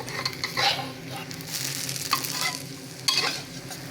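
Eggs frying in hot oil turned up to high heat, a steady close sizzle with stirring and scraping bursts throughout, no voices.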